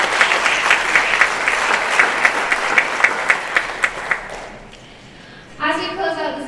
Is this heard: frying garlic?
no